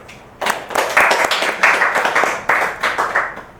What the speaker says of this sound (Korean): 박수 한번 칠까요 우리?